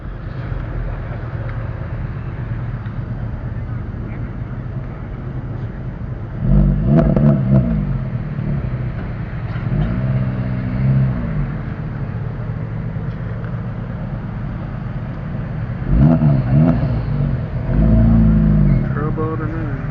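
A Nissan GT-R on Toyo tires revs at a cars-and-coffee meet, with a steady engine rumble broken by several sharp, loud throttle bursts, one midway and another near the end.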